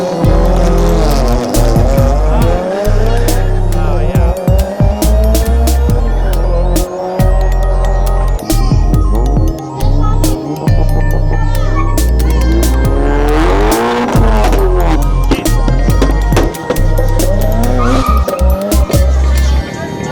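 Cars at a quintessential Thailand drag race, tyres squealing and skidding as engines roar and rev repeatedly, loud and close, with crowd voices underneath throughout.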